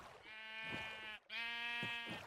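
Two close, clear sheep bleats from Minecraft, each a short wavering cry separated by a brief pause, alone with no talking.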